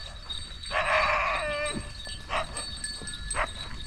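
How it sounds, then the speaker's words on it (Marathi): A black dog barks a few times at a sheep-camp halt on a pilgrimage route in the morning, with one longer bark followed by two short ones, fairly faint, among low background noise and livestock. "ते कोणचं कुत्रं आहे बा काळं?"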